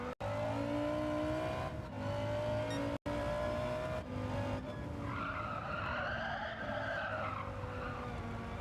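Race car in Gran Turismo 7 braking hard into a corner, tires skidding and squealing loudly over the engine note, with brief cuts and a rising squeal near the end.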